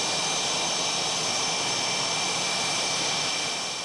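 An F-18 Hornet navy fighter jet engine produces a steady, loud, continuous roar with a high whine on top, heard alone and unchanging for several seconds.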